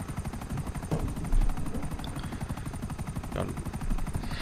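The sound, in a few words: helicopter in video game GTA 5 Online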